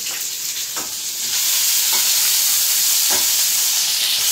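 Onion sautés in a pan and is turned with a ladle while mutton boti is being cooked, giving a loud, continuous hissing sizzle broken by a few sharp scrapes of the ladle.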